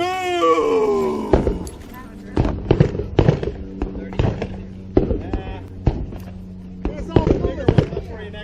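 Shotgun blasts at a cowboy action shooting match, a series of loud, sharp reports spaced irregularly about half a second to a second apart, following a shout at the start, with brief voices between the shots.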